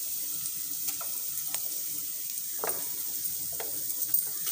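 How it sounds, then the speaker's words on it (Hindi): Chillies and chopped onion fry in a pan for masala, giving a steady close sizzle with occasional stirring scrapes and taps, and no voices. "मसला के आम भलसे भाजी देमा"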